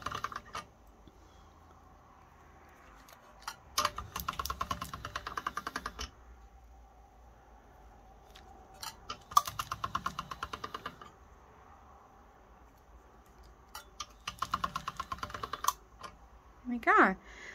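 Polymer clay being folded and cranked through a rolling machine, heard as bursts of rapid, close mechanical clicking separated by quieter pauses with faint handling noise.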